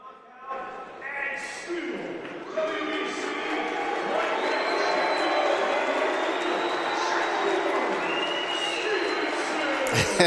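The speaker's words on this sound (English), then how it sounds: "Stevenson soaks it in, the applause and the boos" Boxing arena crowd after a Shakur Stevenson title defense, a dense roar of applause, cheers and boos swelling and holding loud throughout, with whistles cutting through and an announcer's voice over it.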